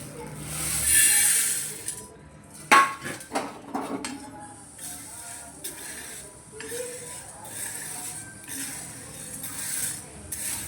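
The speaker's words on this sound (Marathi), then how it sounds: "ही मूग बघा असं भाजल्याचं, असं लाल करत भाजून घ्यायचं" Dried moong beans being dry-roasted in a pan, with scattered clinks and scraping of a utensil against the metal, a few sharper knocks early on, then softer rattling continuing throughout.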